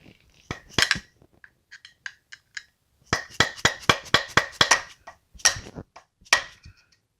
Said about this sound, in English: Now we'll get this bolt off.